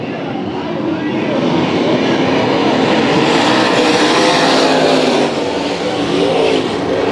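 Late model race cars roar around the Bakersfield Speedway oval in a heat race, a dense, loud, continuous engine drone that swells and holds as the pack passes, with crowd and track ambience beneath.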